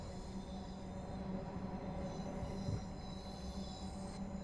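Train arriving at Euston Station in Train Sim World 5, a steady low rumble of rolling wagons with faint wheel squeal and hum, quiet and continuous throughout.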